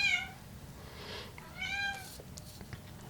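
A cat meows twice, the calls clear and fairly close, with a quiet room-tone hum underneath and no talking.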